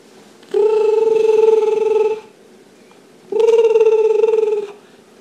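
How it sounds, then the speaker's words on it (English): Two long electronic phone rings in a video game, with a steady buzzing tone, separated by a short pause, loud and clear with no talking. "Hey, what's that ringing?"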